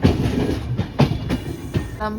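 The Darjeeling Mail train rolls into Malda station, rumbling steadily with heavy clickety-clack wheel knocks over rail joints, close and loud, plus a faint squeal near the end.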